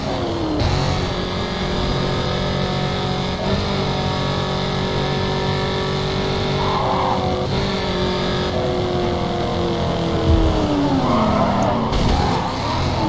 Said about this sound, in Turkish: Araba durduk yere drift at.